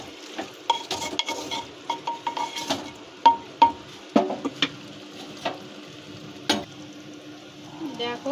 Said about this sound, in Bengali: হাঁড়িটাকে ধরতে হবে, ধরে ভালো করে নাড়িয়ে নিতে হবে।